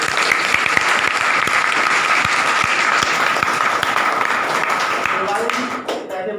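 Audience at a motivational speech event breaking into loud, sustained applause, dense clapping that carries on for several seconds before tapering off near the end.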